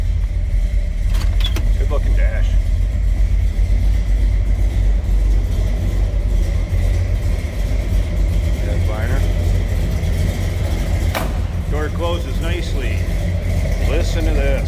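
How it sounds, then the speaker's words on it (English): A 1985 Chevrolet C10 Silverado shortbox with a big block V8 idles close by, a steady loud low rumble filling the whole stretch while someone talks over it. "That big block. A little rumbling."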